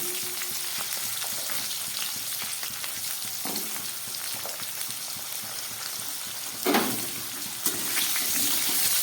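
Potatoes and cauliflower fry in hot oil in a pan, a steady close sizzle broken by occasional stirring scrapes and louder bursts as pieces move, with no talking.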